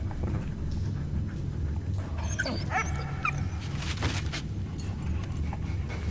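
A dog in the Valiant Hearts game whimpers and lets out short yips and barks over a constant low rumbling background, mid-distance and moderately loud.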